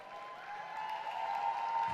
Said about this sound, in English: So please, a round of applause for Bridget Iyere.